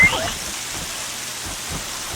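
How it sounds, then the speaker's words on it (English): Heavy rain pours down in the Horizon Zero Dawn video game world, a steady wash of falling water with faint low rumbles beneath and no talk over it. "Man, it's pouring rain again."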